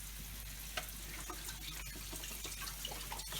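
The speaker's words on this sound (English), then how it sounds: "is pour our beef broth" Beef broth pours into a cooking pot with a faint, continuous liquid rush and light splashes, heard without talk.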